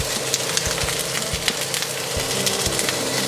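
Celery hits a hot pan and sizzles loudly, a dense continuous frying hiss with scattered pops and crackles throughout, close and alone without talk.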